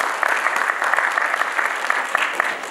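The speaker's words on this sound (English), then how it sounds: "Great applause." An audience at a G Global international forum bursts into sustained applause, many hands clapping densely and steadily throughout without letup.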